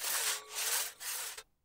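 A hand saw cuts through wood in three rough back-and-forth strokes, close and fairly loud, ending abruptly with no talking.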